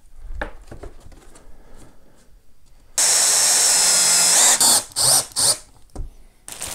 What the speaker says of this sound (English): then we'll screw it in place